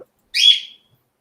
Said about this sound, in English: The bird's going mad.